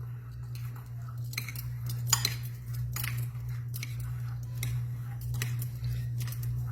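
Fresh salsa fresca is stirred in a bowl with a utensil, giving light, irregular clinks and soft wet squishes over a steady low background hum, with no voices.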